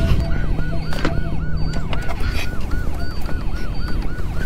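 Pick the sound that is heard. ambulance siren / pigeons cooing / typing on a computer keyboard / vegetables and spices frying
ambulance siren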